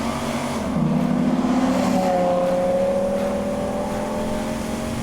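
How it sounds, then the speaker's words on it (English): The V10 engine of a Ram SRT-10 truck roars close by, revving up with a rising, droning pitch that holds strong and steady as it accelerates. "Love the sound of that V10"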